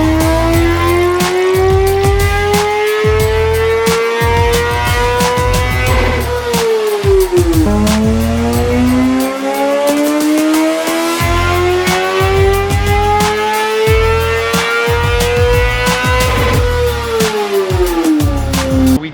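A Kawasaki ZX-4RR motorcycle with its silencer removed revs loudly on a dyno, its high-pitched engine note climbing steadily through long pulls, dropping, then rising again, very close and raw.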